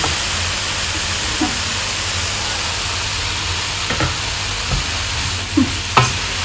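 Chicken and vegetable noodles stirred in a hot pan, with a steady sizzle of frying throughout and a few soft clinks of the utensil against the pan near the end.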